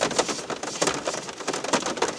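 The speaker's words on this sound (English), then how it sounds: "It's raining cats and dogs out here, man." Heavy rain falls outdoors in a dense, steady wash of drops, with brighter spatters recurring throughout the short stretch.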